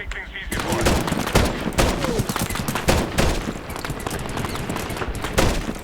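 Rapid, loud gunfire in the Medal of Honor video game, with dense bursts and sharp shots crackling in quick succession, while someone talks over the shooting.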